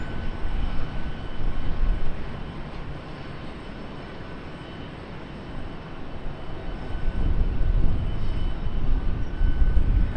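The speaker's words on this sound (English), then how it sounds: "First 777 departure of the night" A Boeing 777 departing Charlotte Douglas International Airport, its jet engines producing a loud, continuous rumbling roar that dips slightly midway and then builds again toward the end.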